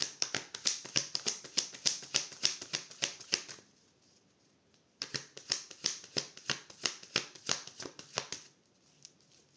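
Tarot deck being riffle-shuffled and cut at close range: two bursts of rapid crisp card flicks, each lasting several seconds, separated by a short quiet pause, with no talking.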